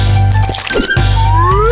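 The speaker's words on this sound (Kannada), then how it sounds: "ಪ್ಯಾನ್ ಕೇಕ್ ಹಿಟ್ಟನ್ನು ಎಚ್ಚರಿಕೆಯಿಂದ ಪ್ಯಾನ್ಗೆ ಸುರಿಯಿರಿ" Pancake batter poured into a hot pan, a wet, soft pouring and squishing sound close by, with a brief hiss and tonal ringing from the pan, no speech.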